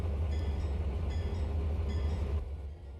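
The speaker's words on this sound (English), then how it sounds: "now we've got the Dash 7s moving into the yard, and they're going to set out their coal train" Dash 7 diesel locomotives hauling an empty coal train into a yard in Trainz, a loud steady rumble of engines with faint rhythmic rail clatter that eases off near the end.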